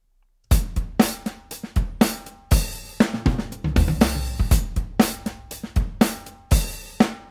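A programmed drum groove plays crisp kicks, snares and hi-hats in a steady pattern, with tom hits rolling through, loud and close.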